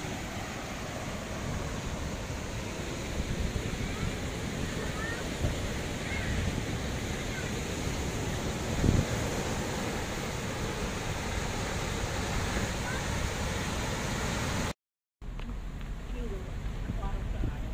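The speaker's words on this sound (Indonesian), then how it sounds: "Ombaknya lagi besar nih di Pantai Gunung Kumbang." Big ocean waves break at Gunung Kumbang beach, a dense, continuous roar of surf mixed with wind buffeting the microphone, loud and steady throughout with one brief cut near the end.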